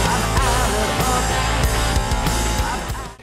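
Huge atmospheric drums pound in a dense, loud rock mix from a song, heavy regular hits under layered sustained instruments before a quick fade.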